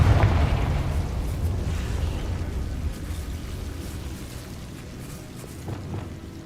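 A Confringo fire spell bursting in Hogwarts Legacy, opening with a heavy booming impact that settles into a long rolling low rumble and fades gradually, with no talking.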